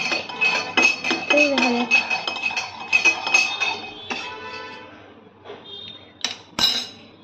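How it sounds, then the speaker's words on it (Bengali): A metal spoon stirs and clinks against a glass while mixing water, making rapid repeated clinks close by that thin out toward the end, where a voice speaks briefly. "এবারে পালা চামচ দিয়ে মিক্সিং করানোর।"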